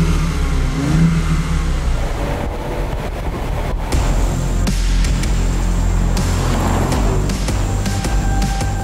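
A BMW i8 Roadster's engine revs loud and close, with rising and falling pitch and a steady, dense roar throughout, plus some wind noise.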